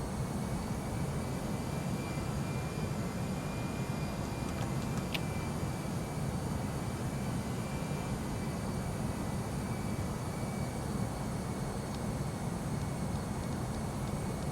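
Airplane engine drone from the Prepar3D flight simulator during a go-around, a constant broad steady roar filling the whole stretch with no change in pitch and a single faint click partway through, no voices.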